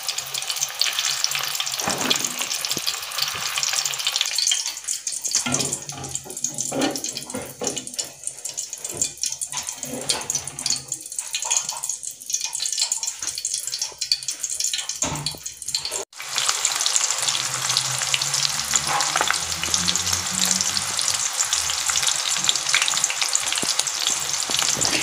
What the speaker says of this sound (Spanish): las partes que falta freír lo vamos dando la vuelta muy despacio para que termine de freír todo